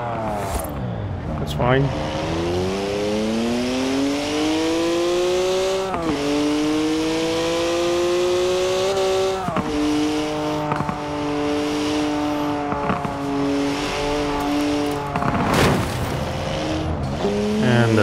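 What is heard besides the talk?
2011 Koenigsegg Agera engine in video game Forza Horizon 4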